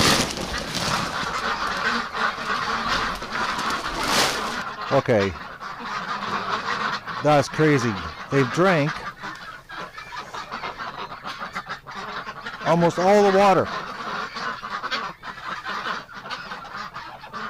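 Ducks quack and honk in short bursts at close range outdoors in winter, with a person talking between the calls.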